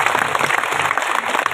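Crowd applause at an Islamic religious gathering for Isra Mi'raj, a short dense patter of many hands clapping steadily at close range.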